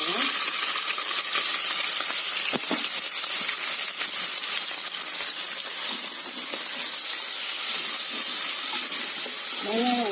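Onions and green chillies frying in oil for a coconut milk biryani, a steady loud sizzle with occasional stirring scrapes running throughout, no talking.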